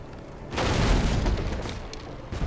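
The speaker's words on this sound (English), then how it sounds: "firebrand cannons" Flaming firebrand cannons fire in the pirate game Pirates Online, a heavy booming volley that erupts after a brief quiet and rumbles on with scattered crackling bursts.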